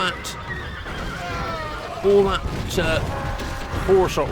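Horses neigh and whinny amid a video game cavalry battle between Sassanid Clibanarii Immortals and horse archers, with several whinnies rising over a dense background of clashing battle noise while someone talks throughout.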